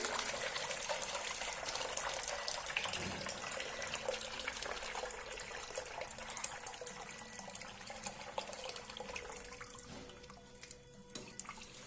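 Water flows into a tank through an automatic proportional valve in a level-control setup, a soft continuous splashing and trickling stream, fairly faint, dipping briefly near the end.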